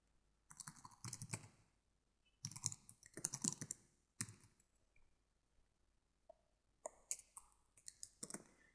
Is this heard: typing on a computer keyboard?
yes